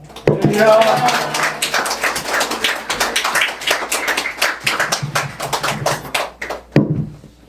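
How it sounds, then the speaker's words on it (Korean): A church congregation clapping loudly and steadily for several seconds, with a voice speaking over the applause before it dies out. "기쁘게 할렐루야로 박수하며 맞이하도록 하겠습니다"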